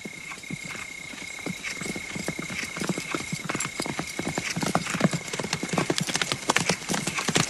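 Hooves of many horses from an army of hundreds clop in a dense, uneven patter that grows louder as they come nearer, with a faint neigh among the hoofbeats.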